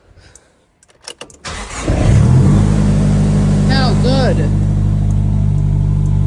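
A project car's engine cranks briefly, catches and settles into a loud, steady idle close by, after a few quiet clicks, with someone speaking briefly over it.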